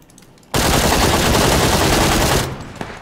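Sustained automatic gunfire in the PUBG Battlegrounds video game, a loud, dense burst of rapid shots lasting about two seconds before it cuts off and fades into quiet.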